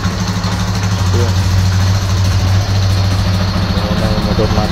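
A Barako 2 175 motorcycle engine idles steadily with a low, even hum throughout, the bike freshly serviced with new oil and a new oil filter, while a voice speaks faintly in the background.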